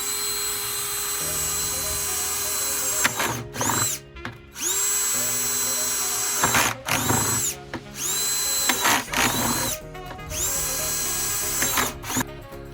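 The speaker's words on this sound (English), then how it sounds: "So I'm drilling all these holes" A power drill whines in repeated bursts, bogging and revving as it bores through material, with brief pauses between holes.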